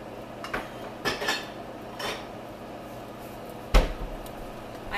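Kitchen cupboard handling while taking out a bowl: several light knocks and clinks spread over a few seconds, with one sharper wooden clack near the end, close and fairly quiet.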